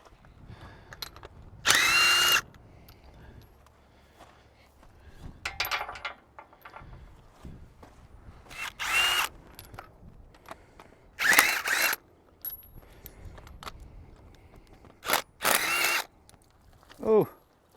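Tools work on a Jeep YJ Wrangler engine to pull out its spark plugs, with several short bursts of a loud power tool spinning, separated by quieter clicks and handling noises.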